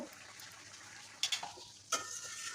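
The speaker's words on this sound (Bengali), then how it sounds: "আমি আরও কিছু সময় তরকারিটা ফুটিয়ে নেব।" Eel and garlic curry simmering in a pan gives a soft steady sizzle, broken by a few sharp clinks of a spoon or ladle against the pot, quiet and close, no voices.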